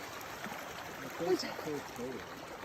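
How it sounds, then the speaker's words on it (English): A flowing stream along the Continental Divide Trail in New Mexico gives a faint, steady wash of running water, with brief voices over it. "this is the only source of flowing water we've seen in New Mexico since the Gila River"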